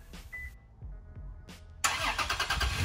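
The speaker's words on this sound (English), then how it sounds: "there's even a remote start." A 2020 Toyota Tacoma TRD Off Road is started remotely, with a few short mechanical clicks followed by the engine cranking and catching into a steady, loud idle close by.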